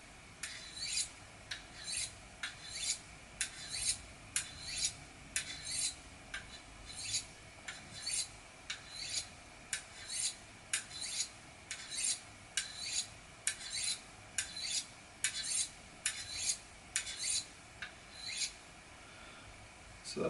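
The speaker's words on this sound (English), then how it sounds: "Now I'm going to do alternating swipes on the smooth side just to polish that edge a little bit further." Kitchen knife drawn through a WorkSharp Culinary sharpener in alternating swipes on the smooth polishing side, about twenty even, close, scraping strokes in a regular rhythm with no talk.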